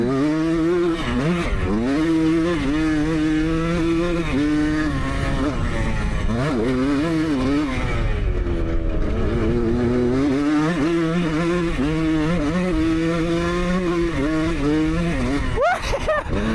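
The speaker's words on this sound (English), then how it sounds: "We're shredding the 1977 Elsinore, finally!" A 1977 Honda Elsinore dirt bike is ridden hard, its engine buzzing loudly and close as the revs climb and fall through gear changes, with wind noise and a brief lull before pulling away again.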